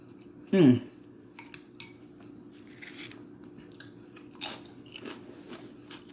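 A spoon clinks against a bowl of homemade tortilla soup with one sharp scrape and a few softer taps, then quiet chewing and slurping up close.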